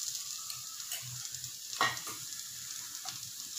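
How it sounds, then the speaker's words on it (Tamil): A steady sizzling hiss of ginger garlic paste and green chilies frying in a pan, with a few soft scrapes and clinks of stirring, close by and without talk. "இஞ்சி பூண்டு பேஸ்ட் நல்லா பச்சை வாசனை போகிற வரைக்கும் வதக்கிக்கலாம்"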